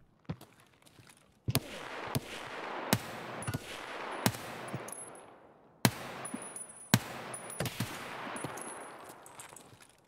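Sniper rifle shots in Escape From Tarkov, about eight sharp, loud cracks spaced irregularly with ringing echoes trailing after each, over a quiet background.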